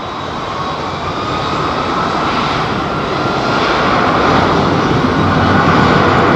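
Airliner engines at London Heathrow spool up for a noisy takeoff, a loud, dense roar that builds gradually and steadily through the whole stretch, with no talking.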